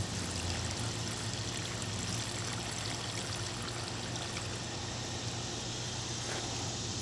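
Water pours steadily from a watering can onto garden plants, a continuous close splashing hiss with no break and no voices.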